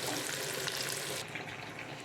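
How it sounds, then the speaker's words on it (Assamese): Pork sizzles in a frying pan as water is poured in, giving a soft, steady hiss and splash that changes as the liquid hits the hot pan; quiet and close. "এয়া গাহৰি ভাজিছোঁ এতিয়া পানী দিম"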